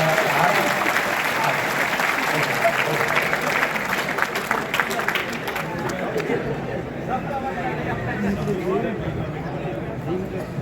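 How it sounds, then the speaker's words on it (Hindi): Loud applause at a Hindi poetry gathering, dense clapping from a roomful of listeners that carries strongly for the first half and then thins into looser, scattered claps with a murmur of voices underneath. "आप जोरदार तालियां उनके स्वास्थ्य के लिए बजा कर"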